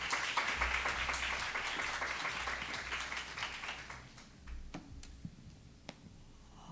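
A church youth congregation breaks into dense applause to welcome a speaker, which thins out after a few seconds into a handful of isolated claps before silence.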